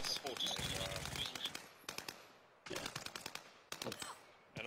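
Video game gunfire plays quietly as rapid, crackling automatic bursts, repeating in several short volleys beneath people talking.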